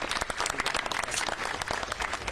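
An audience claps for a graduate named Jennifer Perez at a graduation ceremony, a dense, steady round of applause filling the room from start to finish with no talk over it.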